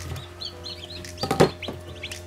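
Newly hatched chicks taken from an incubator give soft chirps and peeps, a few scattered calls near the microphone, with a brief louder flurry of cheeping and handling noise partway through.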